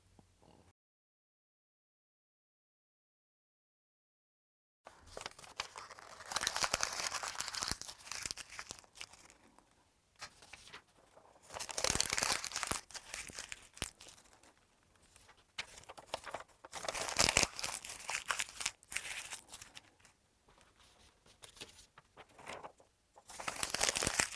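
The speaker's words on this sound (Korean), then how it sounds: "색종이 5 개를 손으로 구겨서 종이 돌멩이를 만들어 볼게요" Sheets of colored paper are crumpled by hand into paper balls, with bursts of crisp crinkling and crackling that come and go over about twenty seconds after a few seconds of silence, close and moderately loud, with no talk.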